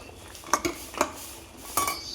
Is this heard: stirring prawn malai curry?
yes